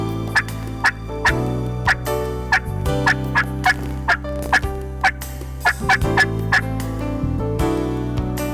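Wild turkeys gobble in a spring field, a long series of sharp, rapid gobbles and clucks repeating every half second or so over a steady hum, close and loud with no talking.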